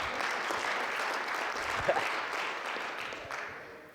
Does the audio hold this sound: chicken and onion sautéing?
no